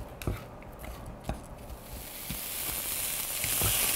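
Sliced onion goes into a hot pan for pork bulgogi, first with a few sharp knocks as it drops in, then a sizzle that builds and holds steady, close by, with no talking.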